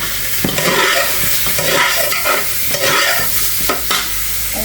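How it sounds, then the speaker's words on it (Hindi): Chicken frying in a pot for chicken pulao, a loud close sizzle with repeated scraping stirs of a spoon against the pot, no voices. "थोड़ा सा चिकन को भूनूंगी"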